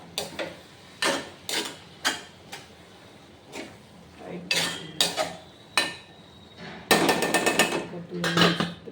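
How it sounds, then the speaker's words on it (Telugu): A metal spoon clinks and scrapes sharply against a cooking pot while a tomato and organic vegetable curry is stirred, in irregular bursts of close, bright taps with quiet gaps between. "ఇప్పుడు అయితే ఒకసారి కలిపి"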